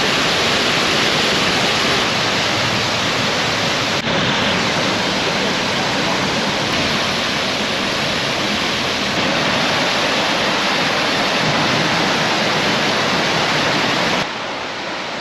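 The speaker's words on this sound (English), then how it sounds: "we're going to see some absolutely brilliant waterfalls as well." A Yorkshire Dales waterfall gives off a dense, constant roar of rushing water, loud and unbroken, before it drops away abruptly near the end.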